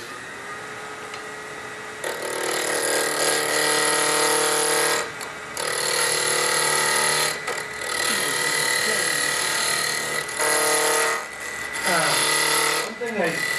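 Wood lathe truing up a lidded box blank and cutting a tenon, the tool rasping against spinning wood in loud sustained passes broken by short pauses, with faint talk in the background.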